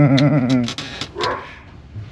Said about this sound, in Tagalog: Kwantuwa yung mga aso natin, makakainis, ano?